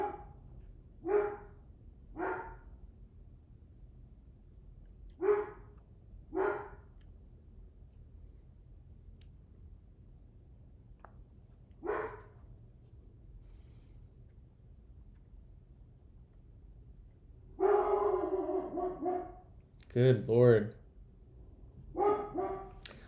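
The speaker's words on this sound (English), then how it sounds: "One second, let me go get the dogs." Several dogs, one named Winnie, bark in sharp separate bursts and then a louder, faster cluster near the end, with brief talk from a person.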